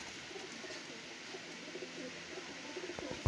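Kasuri pigeons at a Lahore breeder's loft give low, faint coos against steady background noise, ending with a few brief knocks close by.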